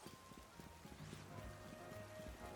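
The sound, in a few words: rain falling in video game Pokemon Legends Z-A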